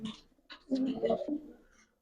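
Soft, low cooing from a pigeon close by, a short murmuring call that rises and falls.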